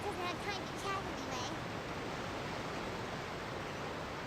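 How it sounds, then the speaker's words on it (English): A loud waterfall roars in Genshin Impact, a steady broadband rush of crashing water that fills the scene, with a brief voice at the start before the water continues alone. "God, that waterfall's loud."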